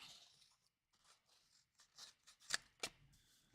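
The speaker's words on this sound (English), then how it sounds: "I'm going to be cutting that sentiment into a strip." Quiet, close snips of scissors cutting a paper card sentiment into a strip, a few soft crunchy cuts followed by two sharper snips near the end.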